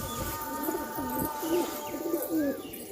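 Pigeons coo close by in soft, rolling repeated calls at a homestead loft, with a faint background hum and no talking.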